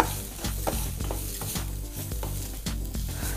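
Grated coconut frying in a pan on a low flame, stirred steadily with a spoon; a continuous close sizzle with repeated scraping strokes roughly every half second, no voices.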